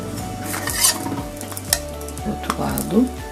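Bread toasting on its second side in a pan, with a steady sizzle of frying under scraping stirs and light clinks of utensil against the pan, close and continuous.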